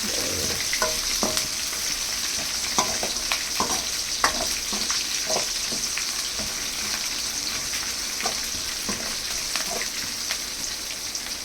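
Green chillies and dried red chillies frying in hot oil as a tempering for idli upma, a steady crackling sizzle with scattered sharp pops and occasional stirring scrapes, close and continuous.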